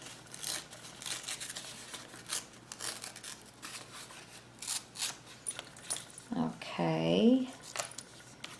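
Scissors snip and rustle through paper ephemera in a series of short, quiet cuts and crinkles, with a voice briefly speaking near the end.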